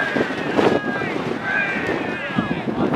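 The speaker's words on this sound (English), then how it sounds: "All right, heavy wind here." Strong wind gusts buffet the microphone at an outdoor ultimate frisbee regional tournament game, a steady low roar with rougher bursts throughout, while voices call out faintly underneath.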